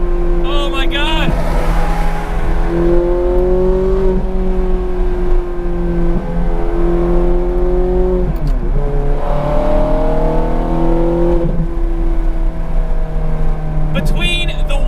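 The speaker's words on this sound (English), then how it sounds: "Between the way the V8 engine rolls into the power and the smoothness and the quickness of this 6-speed manual" A Ferrari F430 Scuderia's V8 with a 6-speed manual pulls steadily under acceleration, a loud, continuous engine drone that rises through the gears, heard from inside the car.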